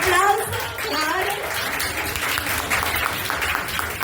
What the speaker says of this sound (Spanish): un aplauso, claro